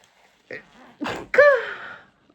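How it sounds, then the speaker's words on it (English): A single sneeze with a sharp inhaled buildup and a forceful, voiced burst, close by, followed by quiet. "I'm about to sneeze"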